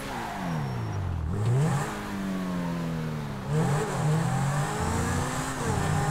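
A car accelerates in GTA 5, its engine revving up through rising gear sweeps, dropping between shifts and climbing again twice, loud and close with no talking.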